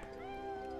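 A cat meows in the video game Bless Online: a single drawn-out, tonal meow that holds steady through the moment, with no talking over it.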